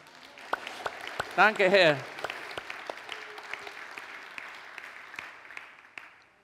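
A church congregation claps in scattered, thinning applause, with someone speaking briefly over the clapping as it fades.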